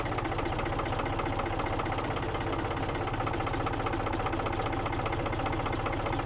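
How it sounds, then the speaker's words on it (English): A tractor engine runs at a steady idle-like chug while a heavy sawmill log, about 10,000 pounds, is flipped. The rumble is close and continuous with no breaks and no voices. "I'm gonna use a tractor to flip this."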